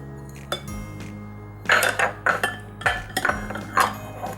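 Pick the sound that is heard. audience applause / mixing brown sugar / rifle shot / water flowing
mixing brown sugar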